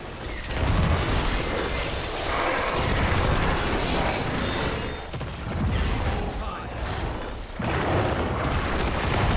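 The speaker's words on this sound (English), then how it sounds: "that blister just exploded, almost killed me" A blister enemy bursts in Diablo IV, a loud booming explosion among dense, continuous combat noise with crunching, clattering impacts, a voice talking over the action.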